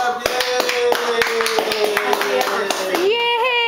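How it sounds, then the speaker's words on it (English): A baby claps hands in a steady run of sharp, close slaps while an adult sings along over them, ending in a rising cheer. "Clap, clap, clap,"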